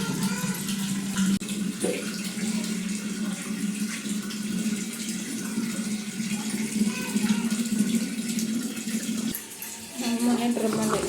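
Steady rushing water pours close by into a bucket that feeds a filter drum, a continuous even stream with a brief break near the end.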